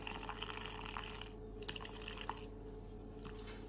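Water trickles and drips in short pours into a bowl of sourdough starter dough, faint and close, with light splashing bursts separated by quieter gaps.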